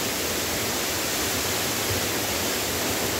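A waterfall near Cherrapunji in Meghalaya, heard as a loud, continuous broadband roar of falling water close by, steady and unbroken with no other sounds.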